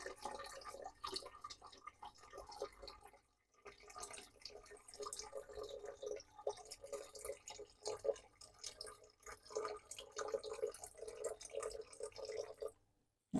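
Quiet trickling and dripping distilled water poured back into a container for soap making runs almost continuously, close by and faint, with a brief pause partway through.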